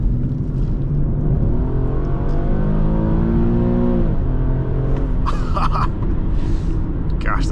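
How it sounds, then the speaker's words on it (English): A 2017 Infiniti QX70 AWD engine revs up from inside the cabin, its tone climbing steadily through the gears and then dropping back, loud and continuous, with a driver's voice talking over it. "What a rev happy car. It just loves to rev out."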